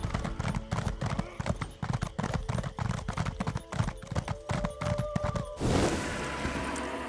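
Horse hooves trot in steady, rapid clip-clops in The Elder Scrolls Online, loud and close, continuing for several seconds before giving way to a brief rushing noise at the end.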